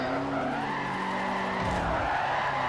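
A Ford RS 200 race car in Forza Motorsport 4 skids and spins after a tap, a loud continuous tire squeal over a droning engine that wavers in pitch.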